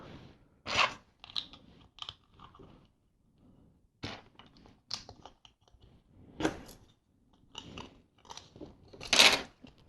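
LEGO bricks from the Ninjago Ultra Stealth Raider set are handled and pressed together, giving scattered close plastic clicks, rattles and scrapes with quiet gaps between them.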